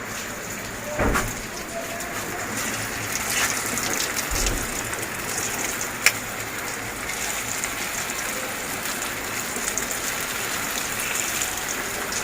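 Steady rain falls on a rainy night, a dense, even patter and hiss that holds throughout, with a couple of brief knocks and a sharp click partway through.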